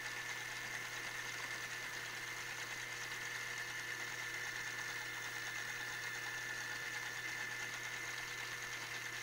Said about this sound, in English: And also at the same time the wheels are running, so it goes. And also it controls the steering.